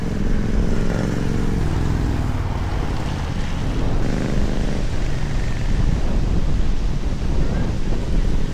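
Strong wind buffets the microphone at a motorcycle campsite in Dingalan, Aurora, in a constant roar, with a deep low rumble and no break.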